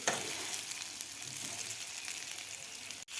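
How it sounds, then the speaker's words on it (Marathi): Potatoes fry in spice masala, tossed gently so a continuous close crackling sizzle runs throughout, with a brief dip near the end. "हे एक मिनिटभर हे खालच्या मसाल्यामध्ये फ्राय करून घ्यायचे आहेत हे बटाटे"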